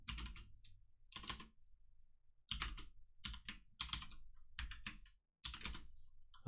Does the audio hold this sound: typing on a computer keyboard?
yes